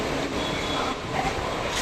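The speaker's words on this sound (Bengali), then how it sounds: "ট্রেন তার নির্ধারিত সময় থেকে মাত্র 7 মিনিট দেরিতে শ্রীরামপুর স্টেশনের 4 নম্বর প্ল্যাটফর্মে এসে প্রবেশ করেছে" A local train rolls into platform 4 at Shrirampur station with a continuous broad rumble of wheels and carriages, close and loud, no voices.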